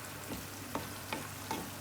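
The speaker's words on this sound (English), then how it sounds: "So keep frying." Chili and garlic fry in a pan for Rajasthani chutney, a steady soft continuous crackling sizzle broken by three brief scraping stirs spaced evenly apart.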